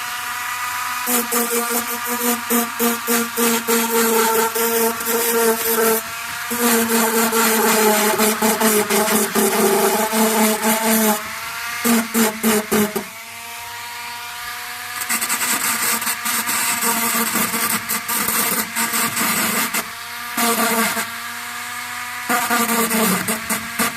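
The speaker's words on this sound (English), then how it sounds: "I'm using a Dremel now to mark out some of the features" A Dremel rotary tool carves features into a monster model, a loud high whine that runs in long bursts with stuttering on-off pulses and short breaks, close up and steady.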